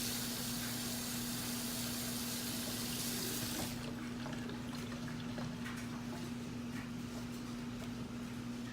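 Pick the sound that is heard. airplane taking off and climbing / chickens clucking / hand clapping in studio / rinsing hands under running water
rinsing hands under running water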